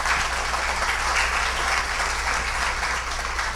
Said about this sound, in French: le grand Jacques-Stéphane Alexis, que je vous demande d'applaudir tout de suite.